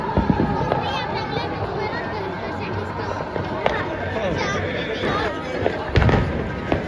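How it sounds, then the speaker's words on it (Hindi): Fireworks crackle and pop through a Diwali night celebration at the Golden Temple in Amritsar, with scattered bursts over a steady crowd murmur and a louder cluster of bangs near the end, with voices talking throughout. "ए देख सकते हो उत्ते कितनी आतिशबाजी हो रही है"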